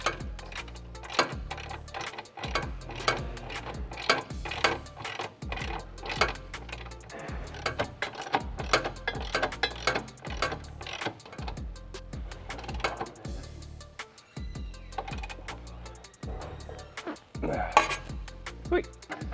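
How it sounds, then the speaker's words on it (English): Steady rhythmic clicking of a ratchet tightening bolts on a Z1 350Z rear tie bar, repeated quick ticking strokes close up over about twenty seconds. "put this 19 on, keep it straight, and then you can tighten everything back down"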